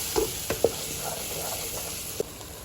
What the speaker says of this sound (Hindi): फ्राई करेंगे, भूनेंगे मसाले को